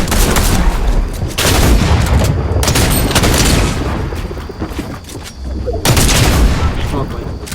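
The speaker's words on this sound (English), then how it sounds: "Number 4 on our list, we have the bolt action sniper." Heavy, loud gunfire from the bolt-action sniper in the shooter game Fortnite, in dense bursts that fill the clip, with a few brief gaps.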